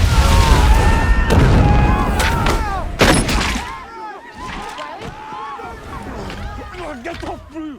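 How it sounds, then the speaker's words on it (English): Secret Service vehicles blow up in a movie action scene: a loud, dense burst of booming and crashing debris that slowly thins, with scattered rattles and squeals trailing off afterward. "he diverts attention by detonating all Secret Service vehicles"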